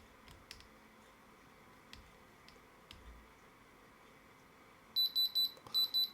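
A metal tester beeps while testing silver-plated earrings: faint ticking and tapping for several seconds, then a row of sharp, loud electronic beeps in quick pulses near the end, with no talking.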